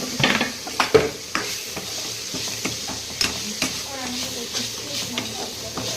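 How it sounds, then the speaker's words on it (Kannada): Flattened rice for avalakki upma is stirred into a hot pan of oil and turmeric, with soft scraping and light sizzling, a few louder clatters near the start, and a voice talking over it at times. "ಅವಲಕ್ಕಿ ಹಾಕ್ತಾ ಇದ್ದೀನಿ ನೋಡಿ"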